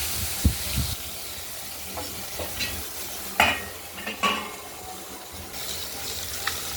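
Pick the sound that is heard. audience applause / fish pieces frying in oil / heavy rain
fish pieces frying in oil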